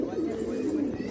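Pigeons feeding on grain coo in a low, continuous murmur, several birds close by overlapping in soft rolling calls.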